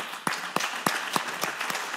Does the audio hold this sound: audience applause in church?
yes